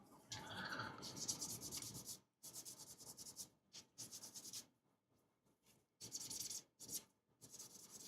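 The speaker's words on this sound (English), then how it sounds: "So that will be some hand sanding now. Let me get my trusty sandpaper." Hand sanding with sandpaper, close and dry scratchy strokes in uneven bursts, some long and some short, with brief pauses of near silence between them.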